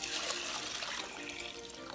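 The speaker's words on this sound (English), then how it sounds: "I'm going to put about 4 to 6 cups of water in there." Water pours from a tap into a cooking pot of soaked lentils, a steady rushing splash that fills the moment without any speech.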